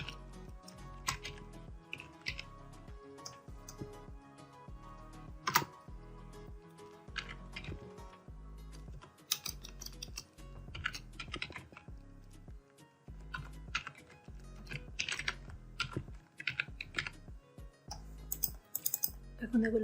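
Typing on a computer keyboard: close, irregular bursts of light key clicks and taps spread across the whole stretch, some denser runs and brief pauses, with a faint low background hum.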